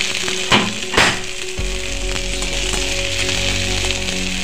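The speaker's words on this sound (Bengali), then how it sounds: "এবার ভালো করে একটু কষিয়ে নিচ্ছি। দেখুন মশলা থেকে আমার তেল ছাড়তে শুরু করে দিয়েছে।" Spice masala sizzles and fries in hot oil for a rohu fish curry, a steady bright crackle with a couple of stirring clatters early on, then a constant close sizzle beneath a low background hum.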